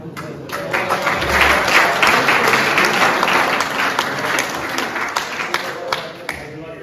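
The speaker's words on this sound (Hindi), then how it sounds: "बहुत घनघोर तालियां आपने मेरे सम्मान में बजाई" A poetry-recital audience at a kavi sammelan breaks into loud, sustained applause, thick rapid clapping that swells and then thins toward the end, with a voice occasionally heard beneath it.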